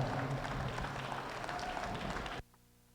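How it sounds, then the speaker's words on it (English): Steady, dense crowd applause fills an arena at the 2020 National Western Stock Show open prospect steer show, honouring the reserve winner. It holds even for over two seconds and then cuts off abruptly. "Let's give him a round of applause."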